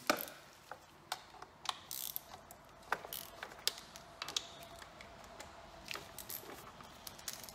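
Ratchet wrench backing out two 12 mm bolts on a Yamaha F150 outboard's intake manifold support brackets, giving rapid sharp clicks in irregular bursts, close and fairly quiet, with no one talking.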